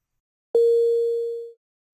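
A single synthesized tone from Sonic Pi plays note 70, a clean steady pitch that starts with a soft attack, holds for about a second and then cuts off, alone in silence.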